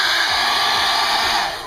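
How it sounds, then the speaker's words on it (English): A hairdryer drying acrylic airbrush paint, a loud, steady airy roar running without a break and easing off slightly at the end, with no voices. "the hairdryer really helps you do that because it lets you dry things as fast as you want or as slow as you want"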